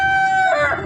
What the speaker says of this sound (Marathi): बघ आता कोंबडी